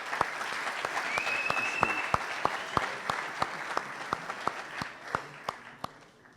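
A lecture audience applauds the speaker at a talk on why children are tireless, a steady wash of clapping with sharp individual claps standing out near the end as it thins.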